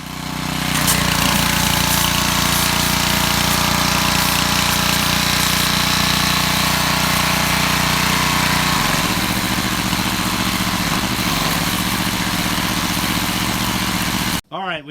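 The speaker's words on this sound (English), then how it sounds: "Now on our power washer, we are using the pinpoint nozzle." A pressure washer fitted with a pinpoint nozzle blasts aluminum wheel rims, its motor droning steadily and loudly for nearly the whole stretch. The pitch shifts partway through, and the sound cuts off abruptly at the end.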